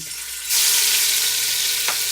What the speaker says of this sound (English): So now I'm just gonna put the oxtail in.